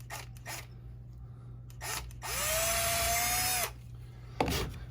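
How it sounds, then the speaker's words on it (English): A power drill with a small 7/64 bit bores a hole for a pull-string spinning top held over a vise, whining steadily for about a second and a half after a few brief bursts of handling noise, all close and fairly loud. "7/64 drill bit. And I'm just going to carefully do this over the vise"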